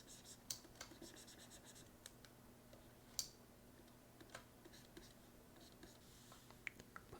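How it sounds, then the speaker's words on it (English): Pencil scratching across paper while a roof is roughed out in a sketch, a faint, quiet run of short strokes with occasional sharper taps, close to the page and alone, with no talk. "Sketching the roof."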